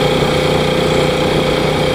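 A Yamaha Moto4 ATV engine runs with a loud, steady, close buzzing drone and even mechanical throb throughout, alone with no talk.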